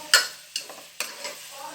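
Onions scrape and rustle as they are stirred in hot oil for a Thalassery-style chicken dum biryani, three or four short spatula strokes with a faint sizzle beneath, close and unaccompanied by speech.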